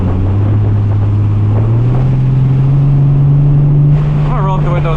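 Inside a Nissan 370Z Nismo cruising at 50 mph around 1,800 rpm, a steady low engine drone hums under wind and road noise, loud and continuous, with a brief voice near the end.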